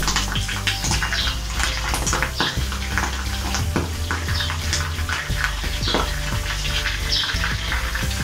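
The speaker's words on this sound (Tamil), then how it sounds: "10 வெத்தலையும் சின்ன சின்னதாக பிச்சு எண்ணெய்க்குள்ள போட்டாச்சு." Torn betel leaves fry in hot oil with a steady, loud crackling sizzle, broken by occasional stirring and clinks of a pan, with no voices over it.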